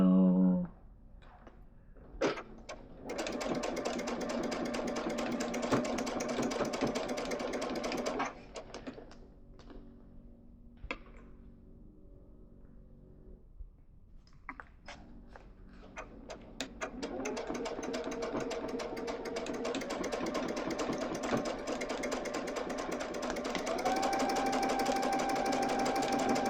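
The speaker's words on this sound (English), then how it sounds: "put it underneath the sewing machine. Put the foot down" A sewing machine stitches quilt pieces in rapid, even bursts, running for several seconds, pausing with light clicks and handling noise, then running steadily again, close up.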